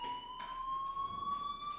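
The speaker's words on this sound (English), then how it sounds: "Hey, do you hear that fire alarm?" A fire alarm rings in the video game Life is Strange, a steady, sustained electronic tone that holds evenly throughout without pause, moderately loud with no voices over it.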